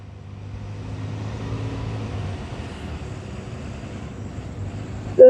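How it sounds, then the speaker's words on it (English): A school bus engine rumbles steadily as it rolls past nearby on a road, a low drone holding for several seconds before a sharp noise at the end. "There's a school bus going by on my road."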